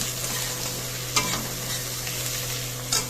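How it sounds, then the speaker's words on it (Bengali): Half a large onion, finely chopped, fries on a high flame: a continuous close sizzle, with a couple of brief stirring scrapes and no talking. "একটা বড় পেঁয়াজের হাফ পেঁয়াজ দিয়ে কুচিয়ে এরকমভাবে জাস্ট ভেজে নিচ্ছি হাই ফ্লেমে"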